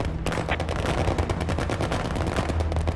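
In a counterinsurgency wargame, an aircraft gun run sends out a loud, dense stream of rapid automatic gunfire that keeps going without a pause, heavy and close, with no talking.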